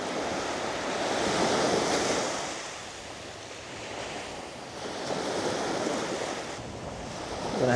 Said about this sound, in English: we're out here by the sea